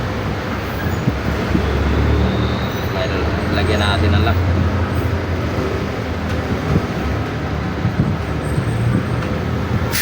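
Busy road traffic rumbles and hums nearby as steady roadway noise under someone talking, with passing engines swelling and fading in the background.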